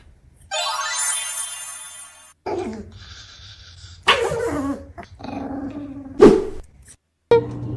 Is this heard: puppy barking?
yes